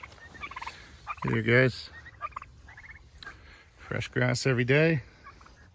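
Young turkeys on a grassy pasture gobble in two loud, close bursts of warbling calls, each under a second long, with a person talking between and around them.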